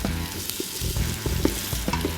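Crumbled sausage and onions fry for a chili in a pan, a loud steady sizzle broken by scraping and stirring knocks as the mixture is moved around, with no speech.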